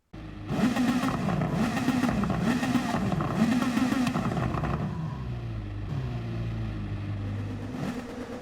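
Toyota Supra GT500 race car engine in Gran Turismo 7, loud and close, revving up and down through several rising pulls in the first half before settling into a steadier, lower drone.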